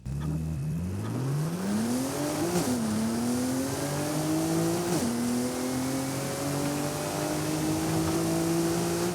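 A Forsberg Racing Datsun 280Z engine in Forza Horizon 5 revs up steadily, rising in pitch through several gear shifts, loud and continuous with no talking.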